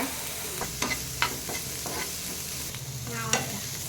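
Finely chopped onion and curry leaves fry in oil in a pan with a steady sizzle, broken by several scraping stirs of a spoon.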